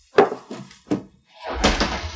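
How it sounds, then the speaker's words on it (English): Someone bangs on a wooden door during a chase, three heavy thuds in uneven rhythm, close and loud, then a burst of rougher knocking and rattling. "Open the door. If you don't open it, we'll break it down."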